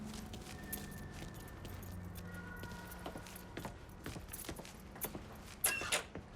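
A set of truck keys is grabbed in the Mafia 3 video game, giving a faint, brief jingle over low engine rumble and ambient game noise, without speech.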